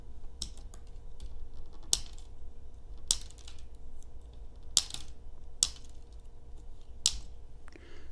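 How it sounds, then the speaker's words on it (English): Multi-tool scissors snipping through a plastic zip tie, giving several sharp, distinct cuts and clicks spaced a second or so apart over a faint background hiss, close and fairly quiet. "Let's see how the scissors do with some plastic."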